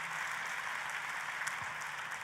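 Applause from a church congregation, a steady wash of many hands clapping at moderate distance, sustained evenly throughout without pause.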